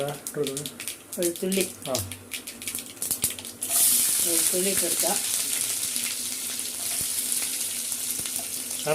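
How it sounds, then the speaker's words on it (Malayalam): Mustard seeds and garlic frying in hot oil for a nutmeg pickle, a steady loud sizzle that bursts in partway through after a stretch of speech, then continues hissing to the end. "കടുക് ഇട്ടു വെളുത്തുള്ളി ഇട്ടു"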